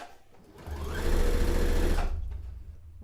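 A sewing machine stitches fabric for a recreation of Princess Leia's white dress in a single close, loud, rapid whirring run of about a second and a half, with quiet moments before and after.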